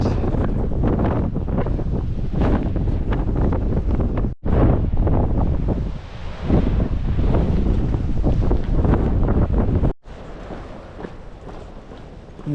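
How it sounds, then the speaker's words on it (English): Strong wind buffeting the microphone on a coastal cliff walk at night, with a loud, continuous roaring rush that drops out briefly twice, and no talking. "Wouldn't really want to be trying to sleep in this wind."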